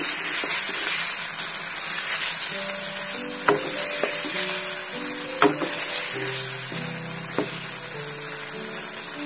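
Yogurt and fried onion paste being stirred into chicken karahi frying in a pan for a black pepper karahi, with a loud continuous sizzle and repeated spoon scrapes and knocks against the pot.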